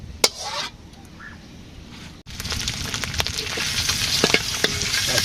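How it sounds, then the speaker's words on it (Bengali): Desi egg curry fries in a pan, first faintly and then with a loud, steady sizzle and crackle that carries on without a break after a brief pause. "আজকে রান্না হচ্ছে দেশি ডিমের তরকারি"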